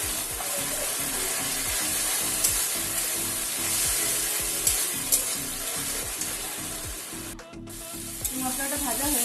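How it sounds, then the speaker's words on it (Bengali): Spice masala with turmeric and salt frying in a pan for a Bengali-style rohu fish curry, a continuous close sizzle with scraping stirs and a brief metallic clink near the end. "মশলাটা ভাজা হয়ে গেছে।"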